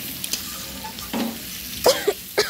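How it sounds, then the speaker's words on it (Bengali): Potatoes being sautéed in a pan with salt, turmeric, bay leaf, panch phoron and dried red chilli, giving soft sizzling and a few quick scrapes and stirs of a utensil, faint and close, with no talk. "আলুটা এখন কষছি"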